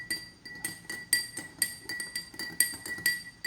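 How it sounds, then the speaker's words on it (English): A metal spoon stirs water in drinking glasses, ringing out in a steady series of bright clinks against the glass, each tap sharp and close with short, ringing tails. "Take a spoon and stir the water in each glass and observe the changes."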